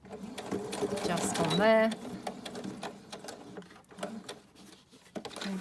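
A sewing machine runs a quick burst of stitching around a piece for a gothic Halloween junk journal, its rapid mechanical whir close and clear while a person talks over it.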